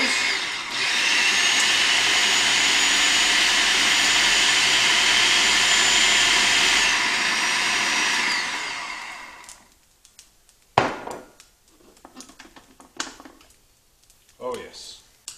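Kitchen blender running without a lid on green pea soup: a loud, steady high whirring for about eight seconds that winds down, followed by scattered clatter and faint voices.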